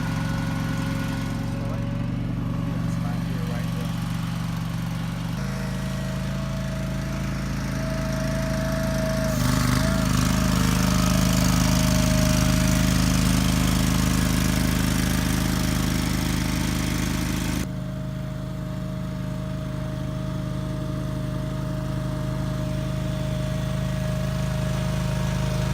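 A greens mower cutting a golf course green hums steadily nearby, with its engine drone shifting in pitch and loudness a few times over a long stretch.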